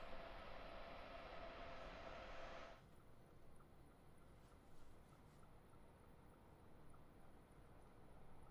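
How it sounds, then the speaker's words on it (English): A train passes near New Carrollton station on the Washington–Baltimore line as a broad, steady rumble and hiss that drops noticeably in level partway through, then continues at a lower roar. "Look at that train going by."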